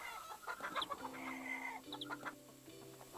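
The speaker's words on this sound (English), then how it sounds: "I've got a pile of hungry chickies." Chickens in the farming game Garden Paws, clucking in a soft, busy cluster, with several overlapping brief calls and a few drawn-out tonal notes over quiet game ambience.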